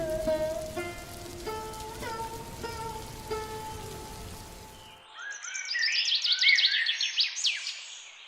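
Heavy rain patters steadily in a Hindi cartoon story, a stormy night that wrecks two old women's kitchen, with tonal music chiming over the first half before bird-like chirps take over.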